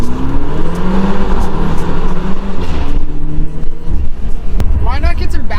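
BMW F chassis with a Valvetronic exhaust revving hard in a tunnel, a loud, continuous reverberant roar that climbs in pitch, with a voice talking over it near the end.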